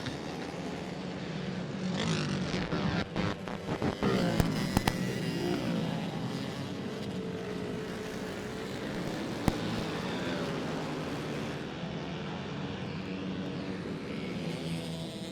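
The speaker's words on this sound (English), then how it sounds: "Derek Barner on the throttle, owning it here at the bull ring." Dirt track race car engines roar continuously at a Marion County Speedway bull ring, a loud sustained droning pack with rising and falling revs and a few sharp cracks.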